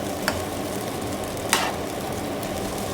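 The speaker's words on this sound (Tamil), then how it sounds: "இடியாப்பத்தை வந்து இதுமாரி நல்லா வந்து முட்டை கூட சேர்கிற மாதிரி கிளறி விட்டுக்குங்க ஃப்ரெண்ட்ஸ்" Idiyappam tossed with egg in a hot pan for idiyappam biryani, a continuous frying sizzle with two quick scraping stirs of a spatula standing out, close and steady, with no voices.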